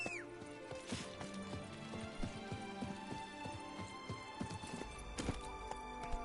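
A horse's hooves pound along in The Witcher 3, a run of rhythmic clip-clop thuds over steady game music and ambient tones.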